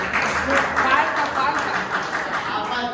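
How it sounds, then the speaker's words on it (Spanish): Applause for a team in a parish school class, a steady wash of clapping from a small group lasting the whole moment, moderately loud with voices mixed in. "Muy bien, un aplauso para el equipo número 1."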